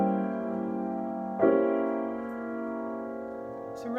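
A superimposed dominant 7 flat 9 chord voicing rings out as a sustained, steady chord, with a second chord struck partway through and left to decay, alone without any talking.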